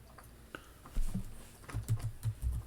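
Light clicking keystrokes on a computer keyboard as a word is typed into an Excel 2016 spreadsheet, a short irregular burst of taps close by and quiet, with no voice.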